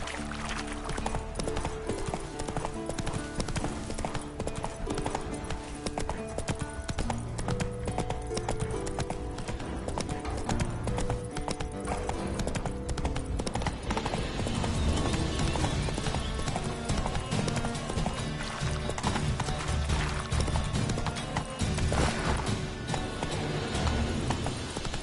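Hooves of the horse Roach in The Witcher 3 clip-clop in a continuous trotting rhythm, close and loud over game music and ambience.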